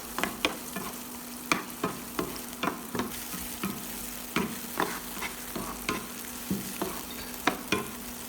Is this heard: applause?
no